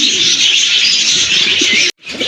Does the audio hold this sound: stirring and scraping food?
no